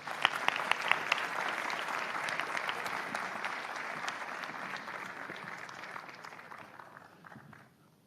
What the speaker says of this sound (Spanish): Por favor, un gran aplauso para Nahum Klicksberg.